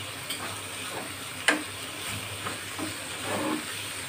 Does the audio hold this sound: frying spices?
yes